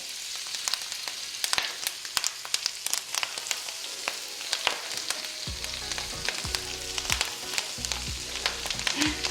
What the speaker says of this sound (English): So I'm going to go ahead and start adding the kale.